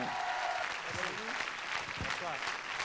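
Audience applause on a French television music show, steady clapping that fills the clip with a few voices and tonal sounds poking through.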